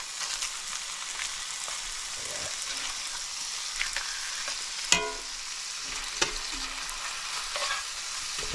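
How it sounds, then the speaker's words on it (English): Onions fry in burger grease beside patties on the cook surface, giving a steady sizzle broken by crackling pops and a couple of sharp metallic scrapes and knocks. "onions cooking in that burger grease"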